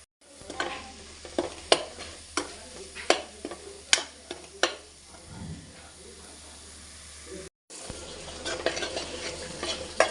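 Masala for butter chicken is stirred in a pan on a low flame, a quiet steady sizzle under repeated sharp scrapes and clinks of the spoon, with a brief pause near the end.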